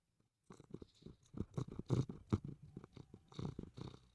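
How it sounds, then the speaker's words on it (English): A cat purrs right up against a microphone, close and intimate, with rhythmic rumbling pulses that start after a brief silence and continue steadily, with no voices. "I'm gonna see if she can purr into the mic."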